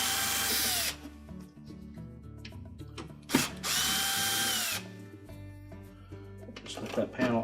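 A power drill whirs in bursts while backing out the hinge screws of a Frigidaire oven door panel, with two long loud runs and shorter spurts between, close up, and a voice speaks quietly in between.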